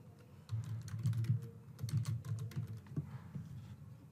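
Quick, steady typing on a computer keyboard, soft clicks in a continuous run over a low hum, close and without speech.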